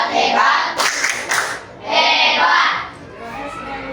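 Schoolchildren in an elementary classroom do the 'tepuk hebat' clap, bursts of rhythmic group clapping mixed with loud chanted voices, close and lively, with short pauses between bursts.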